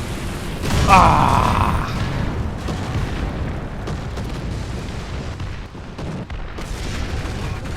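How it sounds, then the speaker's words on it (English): A tank's ammo rack is struck and explodes in the War Thunder video game: a loud boom with a crackling burst, then a long rumbling roar as the blast fades, and a player gives a short cry. "He got my ammo rack and destroyed it."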